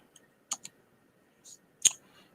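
Typing on a computer keyboard gives a few sparse, quiet clicks spread across a near-silent pause, with one sharper keystroke near the end.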